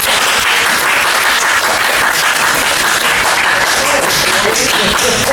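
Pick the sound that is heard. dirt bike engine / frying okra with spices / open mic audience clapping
open mic audience clapping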